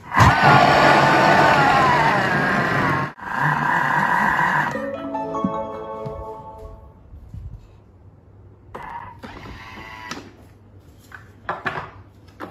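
A Thermomix TM6 whirs loudly on speed 6 as it blitzes spinach tortilla dough, a dense mechanical hum lasting about five seconds, cut once briefly, then stopping and giving way to quieter kitchen clatter.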